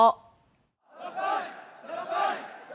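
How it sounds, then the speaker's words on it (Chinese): A large crowd of Syrian people cheers enthusiastically for opposition fighters celebrating the fall of the Assad government, a swelling roar in two waves after a brief voice and a moment of quiet. "接受民众热情欢呼"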